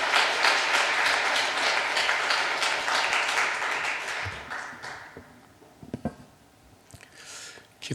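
A church congregation applauds at an early-morning Korean service, a dense wash of clapping that thins and fades after about five seconds, leaving a few scattered claps and small knocks.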